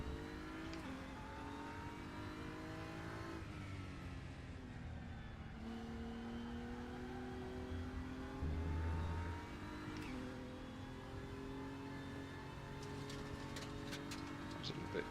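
A DTM race car in the Raceroom racing game revs and short-shifts, its fairly quiet engine drone climbing in pitch and dropping at each gear change.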